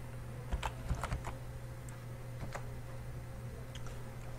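Sparse, quiet keystrokes on a French computer keyboard as terminal commands are entered for Node-RED, with a few clustered clicks and then scattered single taps over a low steady hum.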